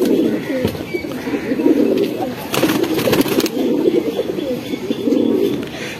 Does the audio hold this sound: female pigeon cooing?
yes